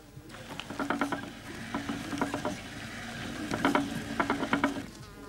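A large wool spinning wheel, the big wheel or tournemore, turns with its spindle driven by a band of wool, giving steady rhythmic clicking and ticking in repeated bursts, fairly quiet and close, with no talking.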